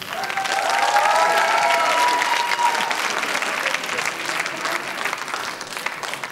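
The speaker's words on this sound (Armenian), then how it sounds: "Եվ նաև խմբին կարելի ծափարել" Applause for a dance group at a gala show, a full audience clapping steadily and close for several seconds, with some crowd voices and a sustained tone underneath, gradually thinning toward the end.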